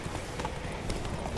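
Roach, Geralt's horse in The Witcher 3: Blood and Wine, gallops in a steady rapid clip-clop of hooves, continuous and close, with faint game ambience behind.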